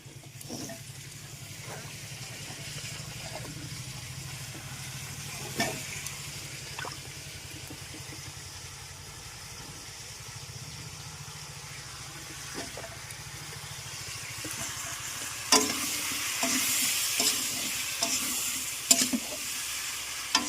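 Eggplant pieces stir-fried with salt in a pan, giving a soft continuous sizzle under a low stove hum, broken by scattered scraping clicks of a spatula that grow louder and busier toward the end.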